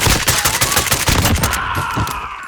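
A high fire rate gun in Call of Duty Modern Warfare rips off a rapid burst of loud, tightly spaced shots for about a second and a half, then the sound tails off into a fading ring.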